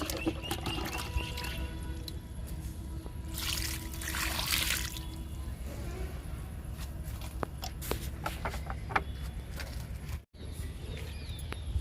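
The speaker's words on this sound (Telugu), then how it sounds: "ఈ కొమ్మలకు కూడా ఇచ్చేద్దాము లిక్విడ్ని" Liquid fertilizer is poured onto hibiscus cuttings in a pot. A soft splashing trickle swells for a couple of seconds amid quiet outdoor ambience with faint birds and light shuffling.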